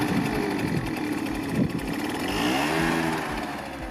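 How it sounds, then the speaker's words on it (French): A Keeway RY6 two-stroke motorcycle engine idles and revs with a buzzing, pulsing exhaust note, close and steady, rising briefly mid-way. "La sonorité du pot est sympa sans être agressive"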